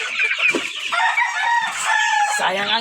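Chickens and roosters at a game farm cluck and crow close by, overlapping calls that rise and fall in a lively, continuous chorus.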